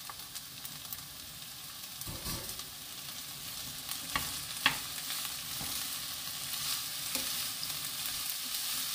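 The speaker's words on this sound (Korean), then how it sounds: "충분히 볶아줘야 부드럽고 맛있어요." Peeled bellflower root (doraji) is stir-fried in a pan over a charcoal fire, giving a faint, continuous sizzle broken by occasional scrapes and clicks of stirring, with no talk.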